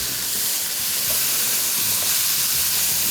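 Chicken and prawn biryani masala stirred and frying in a pot over high flame, a steady close sizzle with scraping stir strokes throughout, no voices.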